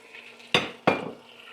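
Malbec wine goes into a hot pot of browned beef for German rouladen and gets stirred, giving two sharp scraping, sizzling sweeps close by against a low background hiss, with no speech.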